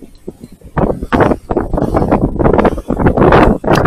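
Strong wind buffets the microphone on the shore of Utö island, loud and close, coming in rough gusts that rise and fall in irregular bursts.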